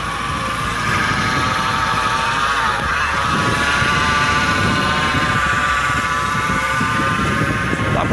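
A 2019 Honda Titan 160 motorcycle runs in gear with the clutch held, giving a steady close engine drone with a whining, rattly strange noise layered over it, continuous and loud throughout.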